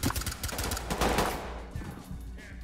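Gunfire in the tactical shooter Ready or Not: a dense, loud burst of rapid shots for about a second and a half that then drops away to a quieter tail.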